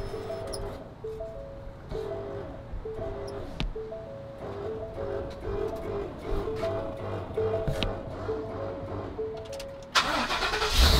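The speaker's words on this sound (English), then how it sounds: "You hear that motherfucking diesel?" A diesel engine in a brand-new U-Haul truck cranks and catches on a first start, settling into a steady rumbling idle with clattering ticks, rising louder at the end.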